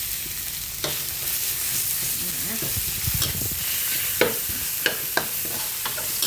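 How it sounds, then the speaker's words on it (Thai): Minced pork sizzles and crackles in hot oil with garlic as it is stir-fried, a steady bright hiss broken by several sharp scrapes and clicks of the spatula against the pan. "เขาก็จะใส่หมูหมูบดเขาลงไปเลยใส่หมดเลยอ่ะ"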